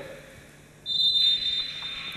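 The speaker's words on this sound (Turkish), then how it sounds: "Bu arada bir faul düdüğü daha geldi." Referee's whistle at a Turkish professional basketball game between Budo Gemlik and Manisa BBSK, one sharp sustained blast of about a second standing out over a quiet arena hum.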